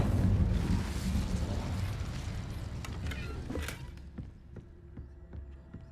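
Incendio fire spell cast in Hogwarts Legacy, a loud whooshing fiery blast that rumbles and dies away into faint clicks and taps.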